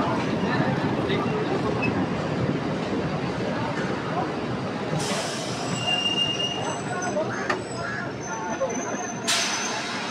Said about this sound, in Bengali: বন্ধুরা আমাদের ট্রেন প্রবেশ করছে বেলুড় স্টেশন।